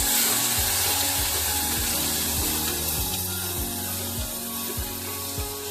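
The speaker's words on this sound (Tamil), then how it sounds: "வெங்காயம் நல்லா பொன்னிறமாக வதங்கி வந்துட்டு தக்காளியை போட்டு தந்துடுவோம்" Onions and tomatoes fry in a clay pot for vattha kulambu, giving a continuous hiss and sizzle with a rhythmic scrape of stirring beneath it.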